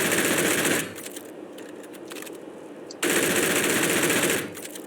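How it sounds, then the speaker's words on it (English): Gatling guns fire in the space game Space Engineers as two loud, rapid, sustained bursts, each about a second or more long, with a quieter stretch of faint rattling between them. "But the Gatling guns are back here."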